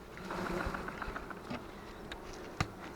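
Steady buzzing from many honey bees close by at a hive in spring, a dense drone with a few sharp knocks and clicks over it.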